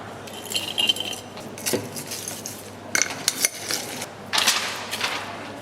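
Ice cubes dropped into a glass for an orange mojito, several bright clinks and rattles in irregular bursts, close and fairly quiet, with no talking.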